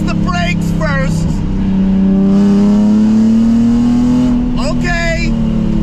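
A loud, rough-running project car engine drones and revs upward in a steady, sustained climb, close and dominant, with someone speaking briefly at the start and again near the end.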